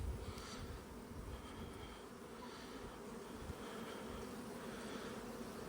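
Honey bees at a hive on a day after crop spraying, a dense steady buzz that holds for several seconds, close and fairly even with no talk over it.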